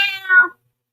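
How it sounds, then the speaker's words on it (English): A single close, bright cat meow, rising then falling, lasting about half a second before silence. "I hear a cat down here"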